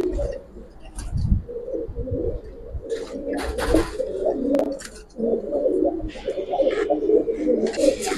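Giribaz pigeons coo repeatedly in a loft, soft throaty phrases overlapping close by, with occasional wing flutters and faint chirps around them.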